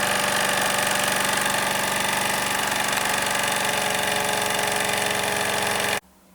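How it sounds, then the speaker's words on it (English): A Wilesco D24 toy steam engine runs steadily, giving a continuous mechanical whir and chuff at an even rhythm, close and loud, before cutting off abruptly near the end. "Well, she runs and I'm pretty happy with it."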